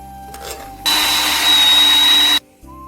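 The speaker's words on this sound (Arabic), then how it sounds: "حطه بالبلندر، طقه بالخلاط" An electric blender whirs loudly for about a second and a half, blending marinated chicken for butter chicken, a steady high-pitched motor roar that starts and stops abruptly, close up, with faint kitchen sounds before and after.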